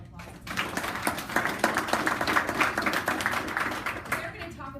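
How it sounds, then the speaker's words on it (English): An audience at a corporate cystic fibrosis fundraising kickoff breaks into applause: a dense wash of clapping swells in after a brief pause and holds steady for several seconds, mixed with voices. "Give yourself a big round of applause."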